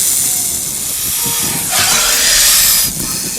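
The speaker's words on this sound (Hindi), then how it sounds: "कैसे आवाज़ आ रही है सांप की।" Loud, continuous hissing from a wild snake in Rajasthan scrubland, a close breathy rush that swells midway, eases, then surges again near the end.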